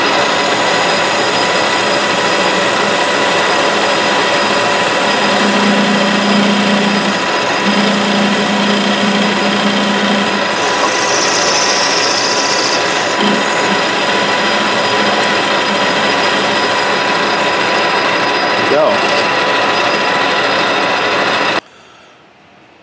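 Metal lathe parting off a steel part for a compact rotary broach, a loud steady machining drone with a grinding, ratcheting texture and a few higher squeals, ending abruptly as the cut finishes.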